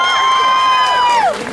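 Concert audience cheering to welcome a singer on stage, a loud sustained high whoop that slides downward near the end over crowd noise.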